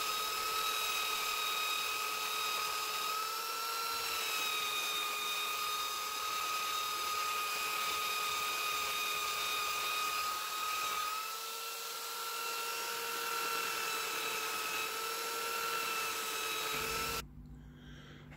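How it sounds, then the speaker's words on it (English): A power sander trims plywood window surrounds in a VW Crafter campervan build, giving a steady, close, high-pitched whine that holds nearly unbroken for the whole stretch before cutting off abruptly at the end. "doing some fine tuning with the sander to get as close to the mark as we possibly could"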